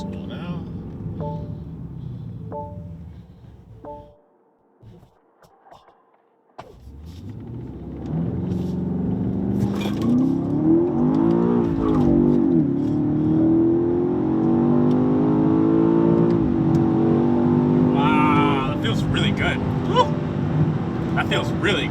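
A BMW X5 M Competition SUV fitted with a JB4 tune accelerates hard on a map pull, its engine surging into a long rising roar with shifting pitch after a brief quiet lull, with people talking before and over it.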